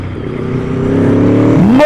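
Aprilia Tuono V4 motorcycle running an Aprilia race map, accelerating hard in third gear, its loud engine note climbing steadily in pitch and then shifting near the end.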